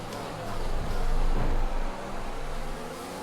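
Formula 1 car engine in F1 2021 at Bahrain, revving and shifting up early so pitch rises and drops quickly, loud and close, no talk.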